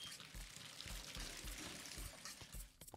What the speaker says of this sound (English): Oh, I need to turn the water off, guys.